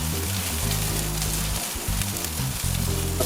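Chicken thighs basted with a mixture sizzle over a grill, a dense crackling hiss like light rain, with low rumbling hum underneath, steady and close throughout without speech.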